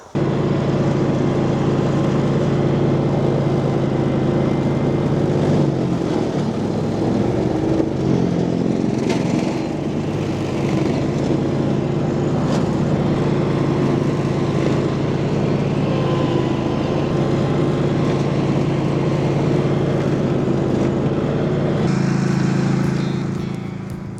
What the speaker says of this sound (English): So the Etesia Atilla AK98X is not your average ride-on mower.